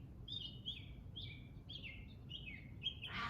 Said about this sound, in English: Love to hear those birds sing.